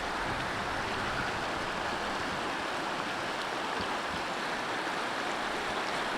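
New York Creek near Folsom Lake rushes through rapids on a rainy day, a constant broad wash of flowing water filling the whole stretch evenly with no voices.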